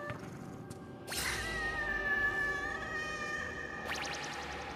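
A cat in the video game Gori: Cuddly Carnage gives a long, loud, drawn-out meow that swells and holds over game background ambience, preceded and followed by short whooshing effects.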